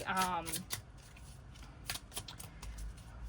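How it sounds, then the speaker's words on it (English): A small tarot deck is shuffled by hand in a series of quick, crisp riffling bursts, close and moderately quiet, following a brief voice at the start. "these smaller decks are a lot better to shuffle"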